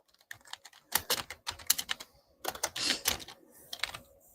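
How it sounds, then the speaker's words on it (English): Rapid typing on a computer keyboard in irregular bursts of close, crisp clicks with short pauses between runs, nobody talking. "That's me typing"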